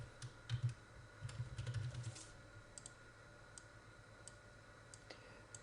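Quick, irregular keystrokes on a computer keyboard while working in Grasshopper software, heard as a soft cluster of clicks in the first two seconds, then a few sparse, faint taps over a low room hum.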